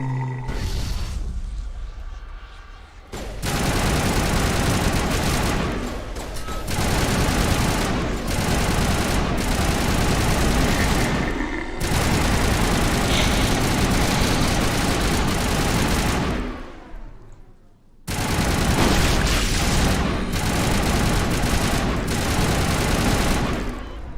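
Sustained gunfire from the video game Mass Effect, loud dense bursts of shooting with engine-like rumble running almost continuously, broken by a few short gaps and one near-silent dip before resuming.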